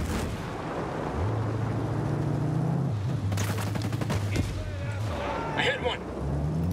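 Gunfire and blasts from the Ghost Recon video game, breaching alongside an armored IFV in campaign play: dense bursts of shots and booms over a steady low vehicle drone, with voices talking over parts of the action.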